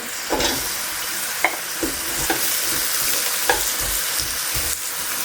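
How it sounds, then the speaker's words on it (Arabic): Onions and steak fry in a hot pan for a cheese steak sandwich, giving a steady loud sizzle broken by several sharp scrapes and clinks as a utensil stirs and turns the food. "هلا بننزل الخضره كمان. ننزل اول شيء البصل"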